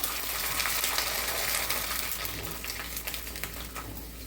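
Sabudana sandige (sago crisps), three or four at a time, fry in hot oil in a small pan, a dense, steady close sizzle and crackle throughout, with no talk.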